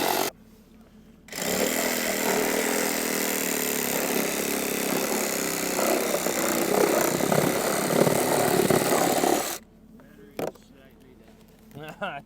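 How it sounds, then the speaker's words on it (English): A Sawzall reciprocating saw slices through thick tree roots while a large Japanese maple is being planted, a loud continuous buzzing cut running about eight seconds before stopping, with short quiet gaps around it. "Just take that Sawzall maybe. Just slice it?"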